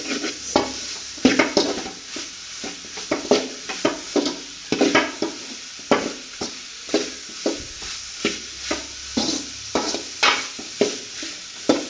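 Bitter gourd sizzles in a pan while a utensil stirs and scrapes repeatedly against it, a steady rhythm of close scraping over a constant frying hiss.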